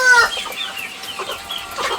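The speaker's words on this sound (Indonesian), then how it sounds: "ayam saya usia 3 bulan kurang malah" Young chickens, under three months old, cluck and chatter close by in a loud, busy run of overlapping calls with no speech.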